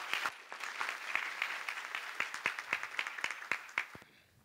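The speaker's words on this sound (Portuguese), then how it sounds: "Por favor, uma salva de palmas." An audience at a DiaTipo typography conference claps for speaker Daniel Sabino, a fairly quiet, steady patter of hands that fades out near the end.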